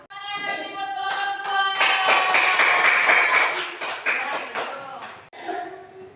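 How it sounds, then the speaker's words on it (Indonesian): A fifth-grade class of students clapping hands together in a classroom, sharp rhythmic claps in a patterned beat with children's voices chanting along, close and loud, pausing briefly near the end. "Oke, tepuk tangan."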